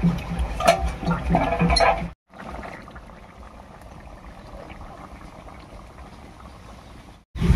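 A covered pan of bottle gourd and fish tail curry simmers with a soft, steady bubbling hiss, after a couple of seconds of louder clattering at the pan.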